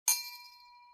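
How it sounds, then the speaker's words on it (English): A single bell in a video game is struck once, giving a bright metallic ding that rings on as a steady, slowly fading tone. It is clear and alone, with no other sounds. "ring this bell"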